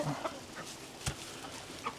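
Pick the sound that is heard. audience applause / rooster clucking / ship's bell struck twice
rooster clucking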